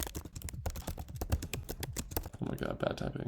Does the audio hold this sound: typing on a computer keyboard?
yes